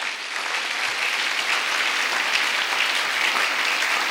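Church congregation clapping and cheering in worship, dense sustained applause from a large crowd throughout, loud and even with no lull.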